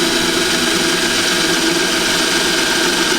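A hand drill boring into a steel knife blank at a centre punch mark, a steady loud whirring motor drone with a dense buzzing grind held evenly throughout, no voices.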